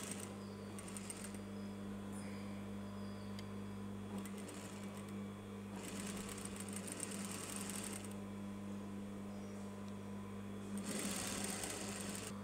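Sewing machine stitching along a T-shirt neckline, running in several steady bursts of rapid mechanical whirring separated by brief pauses, close and fairly quiet over a constant low hum.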